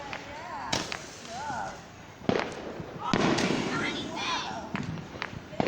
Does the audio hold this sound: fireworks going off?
yes